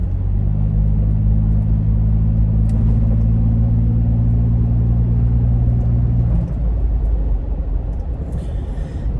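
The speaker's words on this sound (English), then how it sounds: "Like you can hear the exhaust." A deep, steady exhaust rumble from a MagnaFlow Overland Series exhaust on a 5th-generation Toyota 4Runner drones at cruising speed, loud and close, then drops in pitch and fades toward a quieter road hum.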